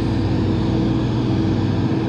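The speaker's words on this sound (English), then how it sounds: "But here's a plane." Steady low propeller-driven airplane drone at an airport, a continuous rumbling engine sound holding level throughout without any voices.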